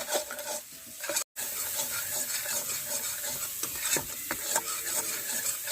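Tomato masala sizzles and fries in a pan for dharosh while a spatula stirs and scrapes steadily, a continuous close hiss with brief rhythmic scraping strokes and one short gap of silence.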